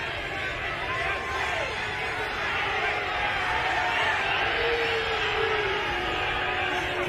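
A soccer stadium crowd at an NCAA women's tournament match groans and jeers in a steady, loud wash of disapproval during a penalty shootout, sustained throughout with no clear voices standing out.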